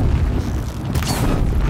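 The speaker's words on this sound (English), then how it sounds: "Love that explosion, baby." An explosion from fire-element combat in the PS5 action game Horizon Zero Dawn, a loud broadband boom that rolls on as a continuous rumble for nearly two seconds, with no talking over it.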